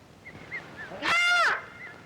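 A voice imitates a crow's caw: one loud, harsh, drawn-out call that stands out against faint background chatter.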